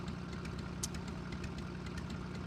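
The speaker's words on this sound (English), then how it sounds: "We don't need to hear the engine this loud." A loud, steady machine engine in a video game idles with a low rumble and faint rhythmic pulsing, running continuously and alone throughout.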